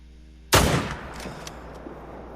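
A single sharp gunshot rings out in a deer-hunting video game, a loud crack followed by a short decaying tail and a couple of faint distant pops, with no voices.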